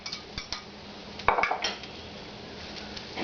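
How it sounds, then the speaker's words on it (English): Bacon dropped into a pan for seasoning greens and beans, giving a few clanks and clinks of pan and utensil, with one louder cluster of metallic knocks midway, close by with no talk. "Alright, I'm going to put this bacon in"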